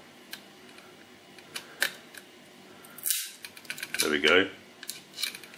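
Cutters snipping the pins of a chip on a Mackie SRM450v2 speaker's circuit board: a run of sharp, close clicks, with one louder burst midway, mixed with brief speech.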